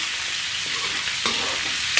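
Onion and garlic sauté in a hot pan for Bisaya pakbet, a steady close sizzle with a spoon stirring and scraping through it, no voices.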